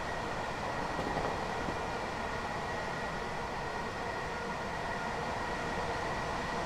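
A steady rumbling roar of a BR Class 377 Electrostar electric passenger train running on the Brighton Main Line, continuous and fairly close, with no voices.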